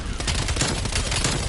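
Dense, loud gunfire from a Call of Duty match, a steady rattle of shots packed closely together with no pause across the short burst.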